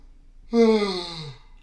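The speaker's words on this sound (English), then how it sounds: "why am I yawning so much?" A single drawn-out yawn with a voiced, descending tone and breathy edge, about a second long, close and fairly loud in a quiet room.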